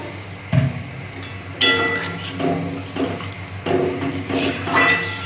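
Water poured into a pan of spiced katla fish curry with fennel: splashy bursts mixed with clanks of metal pot and utensil, recurring at irregular intervals against a steady low hum, moderately close, no speech.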